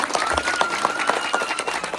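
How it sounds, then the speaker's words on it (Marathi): Crowd clapping at a Buddhist naming ceremony in a village, dense continuous applause from many hands, fairly close and steady throughout. "टाळ्या आपण पूर्ण दाटेगावात ऐकू जाईल अशा वाजवल्या पाहिजेत"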